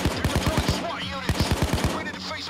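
Rapid bursts of automatic gunfire in the video game Payday 2, loud and close, coming in two quick volleys with a short gap between them.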